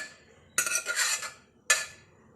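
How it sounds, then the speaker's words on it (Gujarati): Mung beans tipped into a cooking pot for a Gujarati lila rasa vada mug dish, a loud rattling clatter lasting about a second followed by a shorter second pour, close and with no talk. "હવે મગ ઉમેરી લઈશું।"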